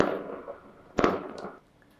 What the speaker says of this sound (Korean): 그리고 이거는 이제 폭죽 소리가 나겠죠.